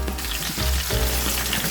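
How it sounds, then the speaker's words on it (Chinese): Pork rolls pan-fry in hot oil, a loud continuous sizzle and crackle close by, with a brief shift in intensity partway through and no talking. "热锅热油，再把肉卷放下去煎，要煎到每一个面都金黄酥脆。"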